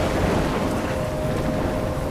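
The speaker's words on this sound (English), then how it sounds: "I'm trapped in a storm?" Storm in the video game Life Is Strange, with a dense, continuous roar of wind and rain and a low, rumbling undertone, steady and loud with no talk.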